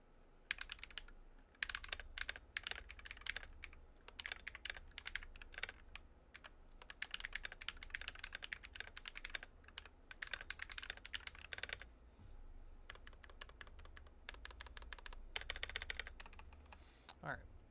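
Typing on a GMMK2 keyboard with Glorious Panda tactile switches: dense bursts of close, crisp keystrokes in uneven runs with short pauses between them.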